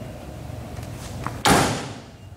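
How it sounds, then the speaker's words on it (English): A 1968 Chevrolet Camaro door shuts with a single solid thud partway through, followed by a short fading ring, with soft rustling and faint handling noise before it. "Doors open and close with ease."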